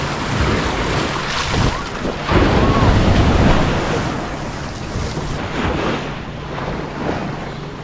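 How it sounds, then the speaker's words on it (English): Ocean surf on a summer coastline, waves swelling and breaking in a loud rushing wash that surges and recedes, with gusty wind buffeting the microphone and no clear talk. "the waves keep like building up as if they're going to be big, and then they go away"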